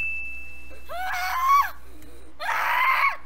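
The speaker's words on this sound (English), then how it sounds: "I'm guessing you've never heard me scream like this, right?" A person screams loudly while playing a Roblox ball-rolling game, in two strained, wavering bursts separated by a short pause, with a thin steady tone audible before the first outburst.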